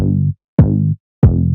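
Three loud, deep synth bass notes from the BWB Wave 3 Bass 9 sample in a repeating trap pattern, each one gliding downward in pitch before cutting off.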